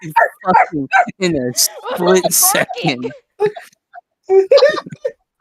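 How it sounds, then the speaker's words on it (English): A dog barks and yips repeatedly and loudly, close by, while a person talks and laughs over it. "Sorry for the barking."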